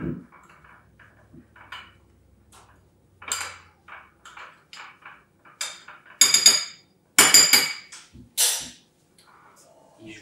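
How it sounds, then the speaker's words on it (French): Dry ingredients for a carrot and parsnip cake are mixed in a bowl, with intermittent clinks and scrapes of a utensil against the bowl, some sharper and louder toward the end, between quiet pauses. "Je vais mélanger mes ingrédients secs."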